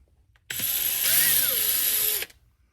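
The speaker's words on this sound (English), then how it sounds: "I'm going to drill a little hole right here" A small power drill whirs loudly for under two seconds, drilling a little hole, its pitch rising slightly as it bites in, then stops abruptly.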